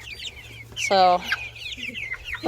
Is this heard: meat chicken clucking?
yes